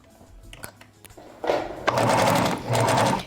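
A sewing machine stitches fabric in two close, buzzing bursts, starting after a few quiet clicks and handling sounds and pausing briefly between runs.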